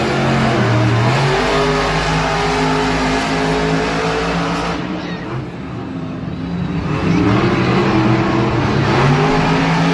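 Monster Jam trucks Black Pearl and Dragon racing in a stadium: loud, roaring engines revving and climbing in pitch, with a brief dip before surging again, over constant crowd and arena noise.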